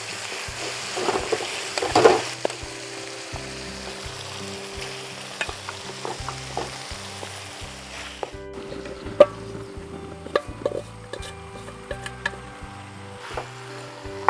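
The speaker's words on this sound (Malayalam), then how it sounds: "അതിലേക്ക് നമ്മൾ മസാല ചേർത്ത് വെച്ചേക്കുന്ന ചിക്കനും കൂടെ ഇടാൻ പോവാണ്." Chicken coated in masala hits a pan of frying tomato, onion and green chilli, setting off a loud sizzle at first that settles into steady frying, with scattered ticks and knocks of stirring and no talking.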